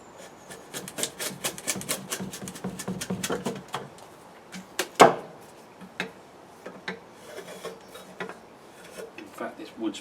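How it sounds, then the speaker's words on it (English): A drawknife strips bark off a small piece of wood for bowl carving, giving rapid scraping strokes in a busy run, then a single sharp knock, followed by sparser rasping strokes. "the first thing you need to do is basically take off your bark"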